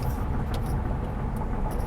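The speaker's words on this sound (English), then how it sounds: "let me stop this fucking truck from fucking vibrating and shit" Road noise from a truck with a shaking problem, heard from inside while it drives: a steady, loud low rumble and drone with constant vibration throughout, with no talk.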